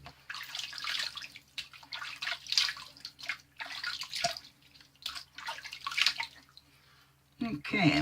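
Water runs from a tap while someone splashes and wets their face before shaving, a steady hiss with splashy bursts and drips throughout and a brief pause near the end.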